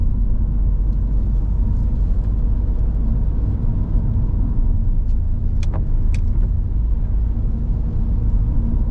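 Steady low rumble of a car driving along a road with its engine running, continuous and fairly loud throughout, with a few faint brief clicks near the end.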